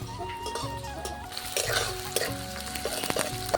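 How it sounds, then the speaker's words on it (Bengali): Chopped onions fry in oil with cardamom seeds and bay leaf for a fish curry, a close sizzle broken by clattering stirs of a spoon against the pan, with some steady tonal sound underneath. "দেব পেঁয়াজ কুচি, ভালো করে পেঁয়াজটা আমি ভেজে নেব"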